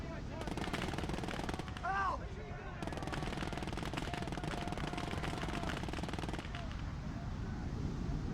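Sustained machine gun fire rattles through a WWII real-time strategy game set during the D-Day invasion, dense rapid bursts mixed with battle noise and a brief pause, while a voice speaks over the din.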